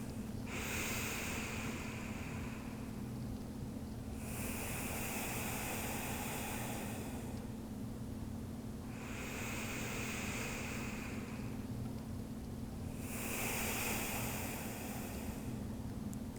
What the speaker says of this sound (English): So I'm going to go through a few deep breaths